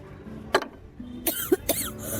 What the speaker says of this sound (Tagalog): Hanggang ngayon, inuubo ka pa rin?